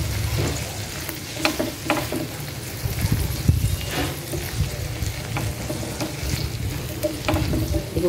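Buttered shrimp fry in a pan while being stirred, a continuous close sizzle with repeated spoon scrapes and clinks against the pan, loud and without talk.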